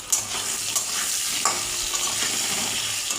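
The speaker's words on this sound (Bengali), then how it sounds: "আমি আলুটা ভেজে নিচ্ছি।" Potatoes sizzle and fry in a pan with turmeric, a steady close hiss broken by a few soft stirring scrapes, with no talking.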